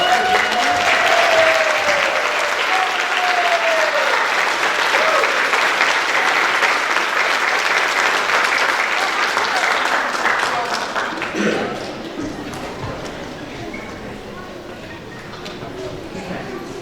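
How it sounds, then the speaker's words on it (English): Loud, sustained applause from a high school graduation audience, dense clapping that holds for about ten seconds, then tapers to scattered claps as a voice begins speaking over it. "Round of applause."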